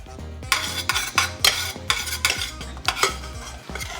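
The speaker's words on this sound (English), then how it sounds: "Cook this down for like 5 minutes until everything is like cooked and fragrant." Garlic and crushed red pepper cooking in a pan as a topping for garlic bread pizza, stirred with quick, rhythmic scrapes about twice a second over a light sizzle, loud and close with no voices.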